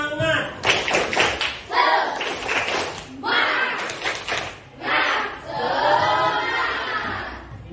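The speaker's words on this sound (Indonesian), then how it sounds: "marilah kita semua melakukan tepuk semangat" Students perform a rhythmic clapping chant, the tepuk semangat, in a classroom lesson, giving loud group claps in patterned bursts alongside chanted voices, with short pauses between phrases.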